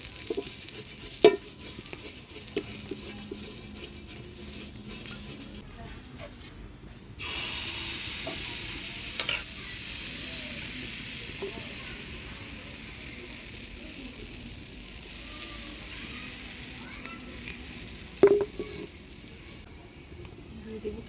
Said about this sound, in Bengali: এবার পটাপট পাটি জোড়াগুলো ভেজে নিব তেল দিয়ে নিই